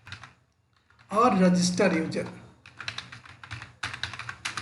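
Code is typed on a computer keyboard in quick bursts of clicks, with someone speaking over part of the typing.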